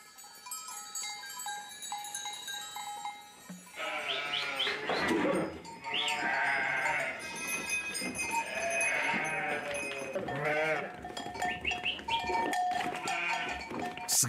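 Sheep bleating on a mountain farm where the flock is still milked by hand. Several loud, close, wavering bleats overlap and repeat over faint outdoor background noise, with no talking.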